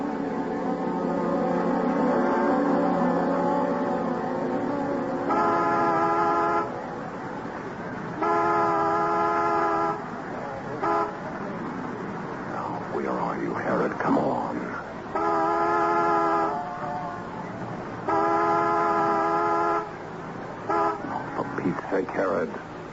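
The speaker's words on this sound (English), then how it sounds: "honk the horn as a reminder. Make it 2 long, 1 short." A car horn sounds in a repeated pattern, with several loud sustained blasts separated by pauses, while people talk in between and underneath.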